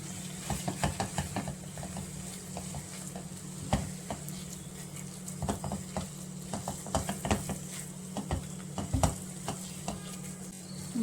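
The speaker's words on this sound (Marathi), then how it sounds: "छान असं आपल्याला परतून घ्यायचं आहे अगदी याचा कच्चेपणा जाईपर्यंत" Gram flour (besan) sautéed in ghee over low heat for besan barfi, a soft continuous sizzle under a low hum, with frequent light clicks and scrapes of a spatula stirring the pan up close.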